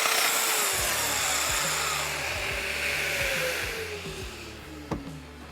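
A domino joiner plunges and cuts 40mm-deep mortises in wood for a table build, a loud steady whining power-tool drone with a descending pitch sweep, ending in a sharp knock as the cut stops.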